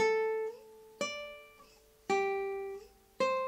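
Plucked guitar notes ring out one at a time, each struck sharply and left to sustain and fade, in a slow, even melodic line from a Villa-Lobos étude.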